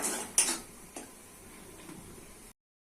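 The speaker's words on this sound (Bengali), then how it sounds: "মশলা ভালো করে কষে নিতে হবে" Ground spices frying in a pan are stirred with a utensil, giving a few faint scraping clicks and a light sizzle for a couple of seconds before cutting to silence.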